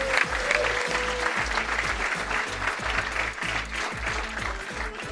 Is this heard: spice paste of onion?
no